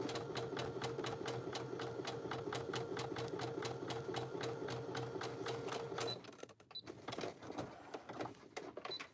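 A sewing machine stitches a seam in a fast, steady run of needle strokes for about six seconds, then stops, followed by quieter handling noises. The sound is faint and close, with no talk.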